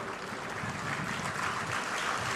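Applause from a conference audience at a groundbreaking ceremony for an AI hub, a steady, dense wash of clapping that holds evenly for a couple of seconds without voices over it.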